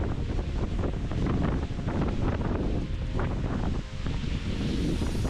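Strong wind on a hilltop at Gorakhgad Fort buffets the microphone in a steady, roaring rush, with gusty swells and no voices.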